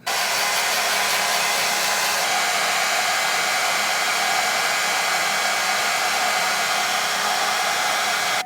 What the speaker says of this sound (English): brushing your baby hairs while you're using your blow dryer